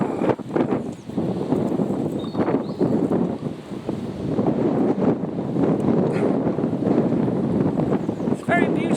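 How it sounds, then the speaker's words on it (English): A strong gust of wind sweeps through a kitchen garden and buffets the microphone in loud, surging rumbles that rise and fall over several seconds, with faint rustling at the end. "Here comes another gust."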